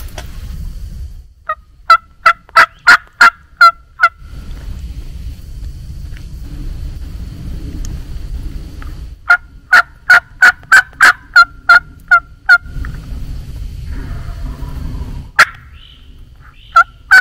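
A wild Osceola turkey gobbler in South Florida gobbles loudly in several rapid, rattling bursts, with shorter gobbles between them, over a low steady rumble of wind or distant traffic.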